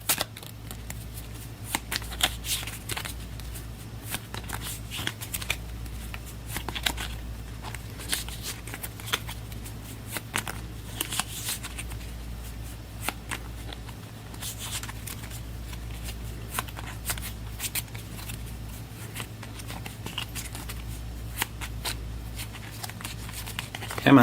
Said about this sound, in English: I've got the artillery deck right here, which I'll give this a quick shuffle as well.